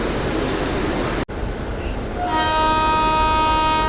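The Kacheguda–Mysuru SF Express, hauled by a WAP7 electric locomotive on its first LHB run, roars past with loud rumbling noise, a sharp break, then a sustained horn tone rising over the continuing rail clatter.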